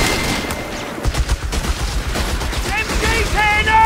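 Machine gun fire rattles through a Company of Heroes 3 battle, dense continuous bursts with heavy low rumble and whistling tones near the end, no clear talk over it.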